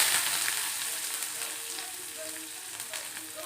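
Onions with curry leaves fry in a pan, giving a steady, loud sizzle and crackle from start to finish with no voices over it.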